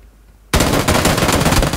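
Rapid automatic fire from an Uzi submachine gun in the video game PUBG, a sudden loud burst of continuous shots that begins abruptly after a near-silent moment and runs to the end without a break.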